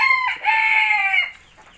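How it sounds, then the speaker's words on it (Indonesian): A hen on a small poultry farm lets out a single loud, close squawking call lasting about a second before it trails off into quiet. "Ini ayam keok kadang-kadang juga bunyi."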